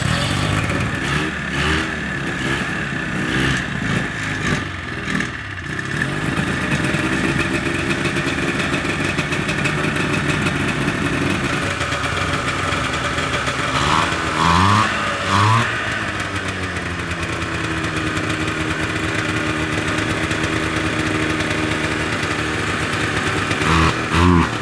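A free 440cc two-stroke engine, smoking heavily, runs with a buzzy, raspy note, loud and close, with the revs rising and falling in several swells and short blips over a sustained run.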